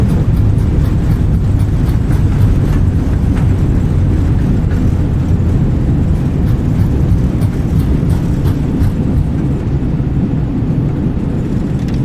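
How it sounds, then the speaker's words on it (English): Airbus A320 thrust reversers roaring on landing rollout in Microsoft Flight Simulator with the A32NX mod, a steady loud low-pitched engine rumble that holds for the whole stretch without easing. "Reversers deployed. Decelerating."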